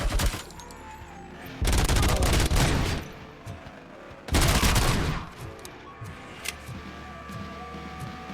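Rapid gunfire in Robocop: Rogue City: two long, loud bursts of extremely fast automatic fire roar close up, separated by quieter gaps with scattered single impacts and game ambience.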